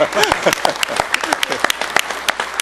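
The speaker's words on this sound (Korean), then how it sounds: "우리 박수 한번 더 쳐드리겠습니다" An audience at a Government 3.0 vision ceremony gives a short burst of applause, with dense clapping close by and a voice speaking over it.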